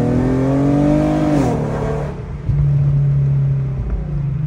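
An Infiniti Q50 with the 3.7 engine, after a valve body replacement, revs up loudly and then drops back, settling into a steady, close idle rumble that rises again briefly, with no one talking.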